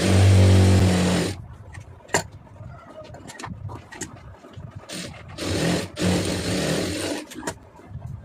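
A sewing machine stitches a blouse hem, with a loud, steady motor whirr in two bursts separated by quieter stretches of handling clicks and fabric rustle, close by.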